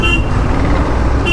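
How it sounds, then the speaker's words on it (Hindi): A large truck's horn sounds on a narrow road, a single sustained honk amid nearby traffic rumble. "तभी हॉर्न बजा रहे थे क्योंकि उनको रास्ते का कन्फ्यूजन था जी"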